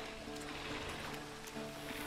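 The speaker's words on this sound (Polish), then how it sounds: "Rzeka płynie" A river flows steadily through a scene in The Witcher 3, a continuous broadband wash of water that stays even and fairly close throughout, with no voices over it.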